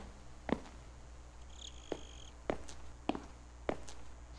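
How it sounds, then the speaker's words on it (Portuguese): Footsteps land at an even pace in the Slender Man video game, each with a short echoing tail, while a faint cricket trill sounds once in the background. "faz o eco de eu andando depois."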